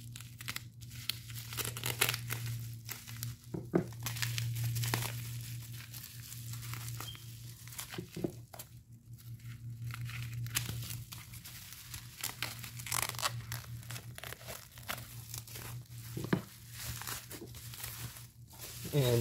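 Tape is cut and peeled off a PlayStation 2 game package in close repeated tearing strips with crinkly plastic rustle, broken by a few sharp snaps, over a low steady hum.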